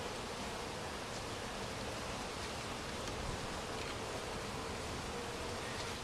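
Honeybees swarm around a hive being split into a new box, making a constant, even buzzing hum that fills the air without pause.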